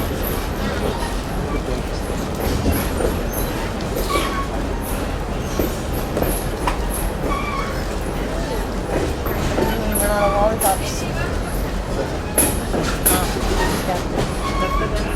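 Conway Scenic Railroad passenger train rolling onto Frankenstein Trestle, a steady rumble of wheels on rail with faint clicks and squeals, heard from aboard the moving train under continuous noise.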